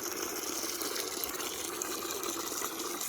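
Water from a hose running steadily outdoors near a pool, a faint continuous gushing hiss with no talking.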